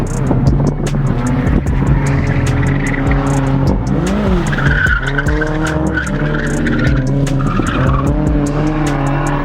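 A stock Nissan 240SX drifts on track, its engine roaring loud and steady while the tires squeal continuously through long slides, with repeated shifts in engine pitch as it revs and pulls.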